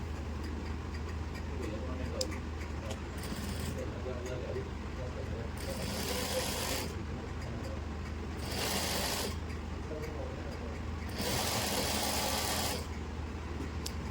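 A sewing machine stitches piping onto a panel kurti in short runs of rapid whirring, with four distinct bursts separated by quieter pauses, beneath a steady low background hum and a speaking voice.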